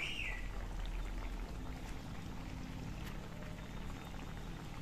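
Fish curry gravy with potato and tomato simmering and reducing in a pan, a steady close bubbling hiss with soft popping that runs unbroken throughout.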